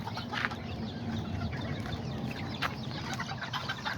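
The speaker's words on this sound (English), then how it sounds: "Got all the kikirikis out here. Chickens and roosters and all the young ones." Yellow phoenix chickens and roosters, including young birds, cluck steadily outdoors in a busy farmyard flock, with a few brief sharper calls rising over a constant low mix of bird noise.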